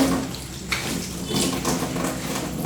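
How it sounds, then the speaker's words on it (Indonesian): Hands are rinsed under a running faucet at the end of a handwashing routine, a steady close splashing rush of water that carries on without pause and has no talk over it. "Selanjutnya kita bilas ke air mengalir."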